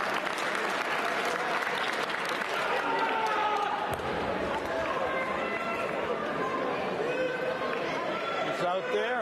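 Steady crowd clapping at a Division II high school shot put state championship, loud and continuous throughout, with spectators chattering underneath and a voice briefly audible.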